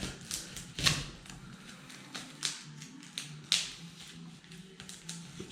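A knife slices into a cardboard watch box package, sharp scratchy cuts and taps landing irregularly, close and fairly quiet in a calm room.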